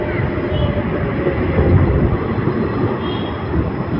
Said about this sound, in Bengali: তো ট্রেন এসে দাঁড়িয়ে গেছে আলিপুরদুয়ার স্টেশনে।